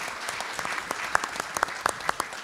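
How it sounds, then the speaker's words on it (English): Brief applause from a small audience at a chamber of commerce State of the City event, a patter of claps that stays fairly steady and close throughout. "let's give Aaron a round of applause for moderating."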